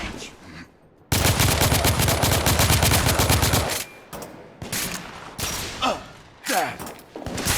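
Gunfire aimed at guards in the game The Order 1886, opening with a long, loud burst of rapid automatic fire, followed by a few separate bursts and single shots with pauses between.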